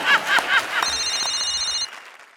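Telephone ringing during a comedy stage sketch, an electronic trilling ring lasting about a second, heard just after a burst of audience laughter and then cutting off.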